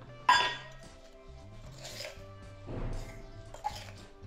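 A spoon clinks against a mug while 3-in-1 instant coffee is stirred: a few distinct close metallic taps and scrapes spread over several seconds, above a low steady background hum.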